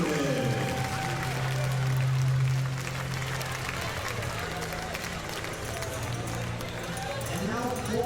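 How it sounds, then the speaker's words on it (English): A crowd at a volleyball tournament claps for two teams after a match, sustained applause with cheers and crowd voices filling the gym, steady and fairly loud throughout. "let's give another round of applause for these two teams for a great match, season, and tournament"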